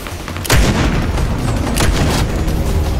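Booming gunshots in Fortnite fired toward the player, one loud close blast followed by several more heavy shots over a rumbling in-game background.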